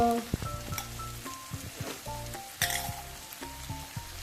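Onion frying in oil as turmeric and asafoetida go in, a close sizzle with intermittent stirring scrapes and a bright clink or two, over a steady low hum.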